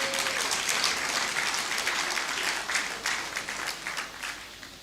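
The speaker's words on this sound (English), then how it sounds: "let's give ourselves a round of applause" A crowd at the UCC 57th congregation graduation ceremony claps in sustained, dense applause that fills the whole stretch and eases slightly toward the end.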